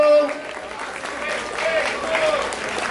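Audience at a Brazilian freestyle rap battle, Batalha da Leste in São Paulo's Zona Leste, makes noise for rapper Jota sem flow's rhymes, a steady wash of crowd cheering and clapping that swells slightly toward the end, with no talk over it.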